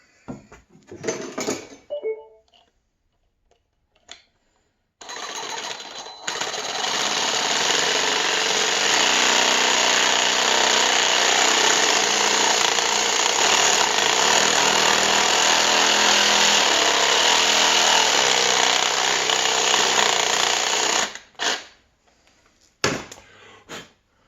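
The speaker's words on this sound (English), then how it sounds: "I'm gonna go ahead and use my Sawzall again and put more of a slit in the top." A Sawzall reciprocating saw cuts a slit into the top of a wooden axe handle, a loud steady buzzing drone running about sixteen seconds after a few short starts, then stopping.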